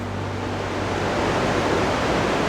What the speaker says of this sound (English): we're following a river again